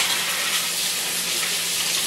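Vigorous tap water pours steadily into a kitchen sink during handwashing before preparing a Thanksgiving turkey, a continuous loud hiss with no pauses or talk.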